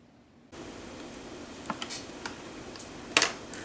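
A Cricut legacy cutting machine cutting a small purse shape from patterned cardstock on a mat, starting with a low steady motor hum punctuated by faint clicks and ticks, with one sharper click near the end.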